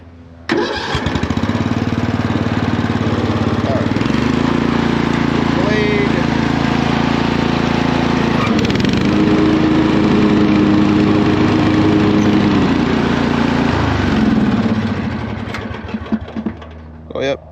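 Murray Select 13.5 horsepower riding lawn mower engine with a 40-inch deck cranks and starts, then runs and idles loudly nearby before shutting off, with a voice talking over it.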